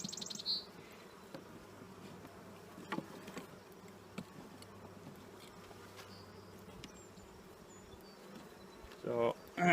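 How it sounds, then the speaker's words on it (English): Festooning honey bees hum steadily around a hive, a low continuous drone with a few soft taps and faint chirps, louder rustling bursts at the end. "I got festooning bees there"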